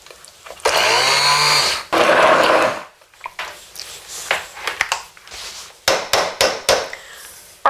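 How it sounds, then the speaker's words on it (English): Kitchen blender pureeing tomato soup, roaring loudly in several bursts with short pauses between, the motor pitch shifting as the contents churn, then choppy pulses near the end. "So let me get this blended"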